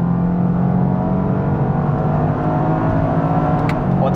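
Automatic 2024 Toyota GR Yaris driven on the street, its engine droning steadily up close as it accelerates and shifts smoothly, with a constant whirring hum and no speech.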